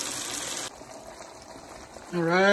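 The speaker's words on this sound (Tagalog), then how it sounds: "At ito naman kumukulo na" A steady bubbling, hissing simmer fills the first part, then a voice begins speaking over it near the end.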